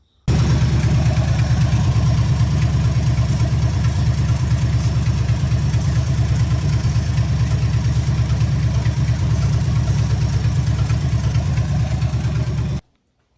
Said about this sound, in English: You get the motor idling steady